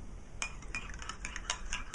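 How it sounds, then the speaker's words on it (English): A metal spoon stirring instant coffee in a cup, with quick, faint clinks against the sides repeating in an irregular rhythm, close by and alone. "Don't forget to stir it."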